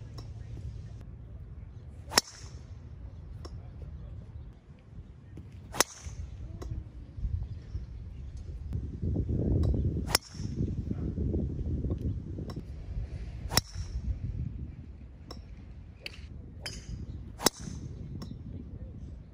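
Golf driver swings with a 43-inch and a 44.5-inch driver: six sharp, loud cracks of club striking ball, spaced a few seconds apart, over steady outdoor wind and background rumble.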